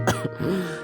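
A single wet, phlegmy cough with a throat-clearing quality, close and fairly loud, followed by a brief voiced trailing sound.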